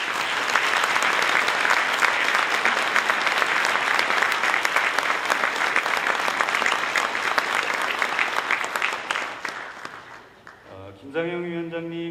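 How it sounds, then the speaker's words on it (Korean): Sustained, loud audience applause fills a Korean company innovation concert hall for about ten seconds, then fades out as a few sustained tones follow. "여러분들 감사의 박수를 좀"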